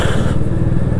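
A Royal Enfield Meteor 350 Stellar cruiser motorcycle rumbles along on a ride, a brief, loud, steady engine thump heard up close with no talking.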